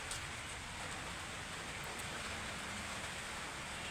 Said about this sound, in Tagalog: inabot na naman ang ulan